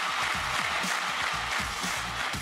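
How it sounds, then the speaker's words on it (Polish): A convention audience in Warsaw gives a warm round of applause, a continuous, fairly loud wash of many hands clapping filling the hall with no speech. "Gorące brawa dla pani Agnieszki"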